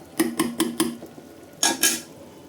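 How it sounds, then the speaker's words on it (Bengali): A lid is set onto a pot of khichuri: four quick, light metallic taps in an even rhythm, then two louder clattering clanks, close by with no talking. "এখন আস্তে ঢাকনা দিয়ে দেবো।"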